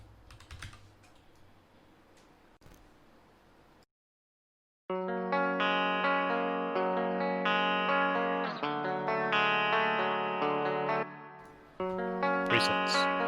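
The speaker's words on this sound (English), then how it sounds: "let's get some reverb on these guitars" Electric guitars ring out with a lush reverb tail, sustained chords blooming and washing into each other after a stretch of soft keyboard clicks and a brief silence.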